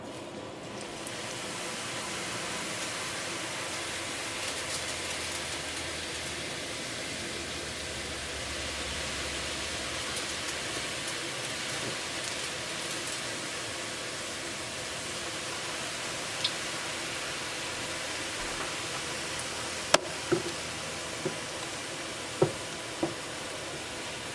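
Spicy crispy murukku deep-frying in hot oil gives a steady, soft sizzle and hiss that runs unbroken, with a few faint clicks and taps near the end.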